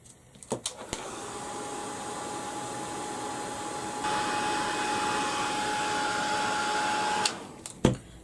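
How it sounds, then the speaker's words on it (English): A heat gun blows a steady, loud whooshing roar over wet paint on a mixed media canvas, switching on after a few clicks, stepping up in intensity midway and then cutting off. "So I'm going to blast that with the heat gun."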